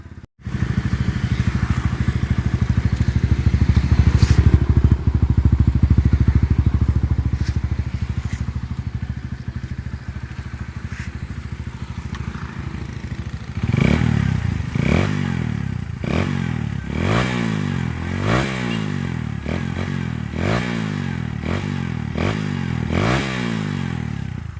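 Honda Barako 3 FI motorcycle with an open kalkal exhaust pipe packed with fiber, idling loudly then blipped through a rapid series of sharp revs, close by with no talk.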